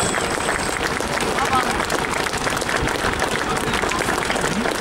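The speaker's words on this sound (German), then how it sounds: "ich denke, das war ein kleiner Applaus, meine Damen und Herren" Outdoor crowd applause after a demonstration of old East German fire-fighting equipment by a historic fire brigade club, a sustained dense clatter of hands at moderate distance, with voices mixed in.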